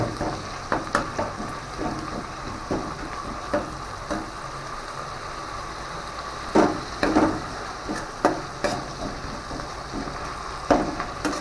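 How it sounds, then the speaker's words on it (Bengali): Khichuri ingredients fry in a pan at close range, with a steady sizzle broken by repeated clinks and scrapes of stirring. "ভালো করে একটু কষাতে হবে একটু কষিয়ে দেবো"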